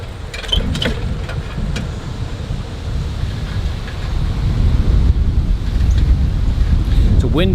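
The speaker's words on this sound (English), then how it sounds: "It's a windy day today, that's for sure." Wind on a sunny, windy day at an orchard, a steady roaring buffet against the microphone that holds throughout and swells slightly toward the end, with a voice faintly audible underneath.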